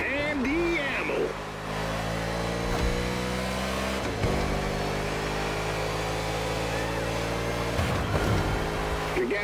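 A NASCAR race car in The Crew Motorfest accelerates with a loud, close engine roar, climbing through gears with rising revs and shift breaks while a voice speaks over it.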